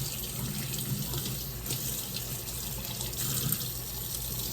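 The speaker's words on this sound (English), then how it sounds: "so I'm cleaning off this rib tip." A kitchen faucet runs steadily as a rib tip is rinsed under the stream, a continuous broadband water rush filling the sink with slight splashy variations, close and fairly loud throughout, no talking.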